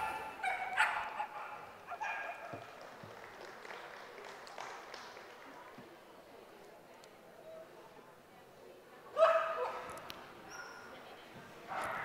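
Dogs at a trick show bark a few times in short bursts, with a sharp loud bark near the end, amid crowd noise and a voice talking.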